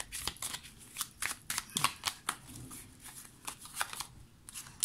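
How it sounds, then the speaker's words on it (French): Soft papery snaps and riffles of a tarot card deck as a card is drawn, a quick series of crisp flicks, close and fairly quiet with no talk. "On va prendre une autre carte pour voir."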